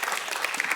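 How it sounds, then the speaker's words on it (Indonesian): Brief burst of congregation applause in a church service, dense clapping from many hands at close range. "Berikan tepuk tangan untuk Tuhan."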